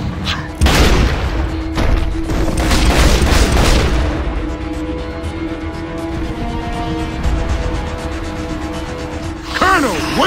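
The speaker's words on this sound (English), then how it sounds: "Kilo, we gotta move before that ammo dump blows." A burning ammo dump erupts in Gears of War: Judgment, heavy booming blasts and crackling debris rolling for several seconds, then a long resonant rumble fading out, loud and close.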